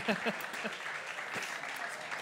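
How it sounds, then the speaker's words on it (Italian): Applause from a conference audience at SIOS22 Sardinia Edition, steady and moderately loud, with a few bright claps standing out near the start. "un applauso"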